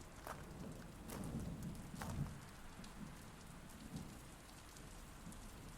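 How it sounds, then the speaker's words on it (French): Steady rain patters on a surface while low thunder rolls softly in the distance, fairly quiet overall. "Le tonnerre se met à gronder et la pluie fait son apparition."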